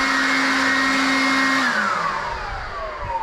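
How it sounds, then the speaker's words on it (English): Ryobi 18V brushless HP cordless leaf blower clearing grass: a steady loud motor whine and rushing air that winds down in pitch as the motor slows near the end. "blow the grass away"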